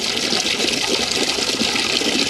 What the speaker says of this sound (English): fill it halfway with water so it won't be so unwieldy.